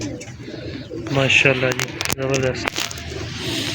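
Pigeons in a pigeon loft giving soft cooing calls close by, mixed with people talking over them.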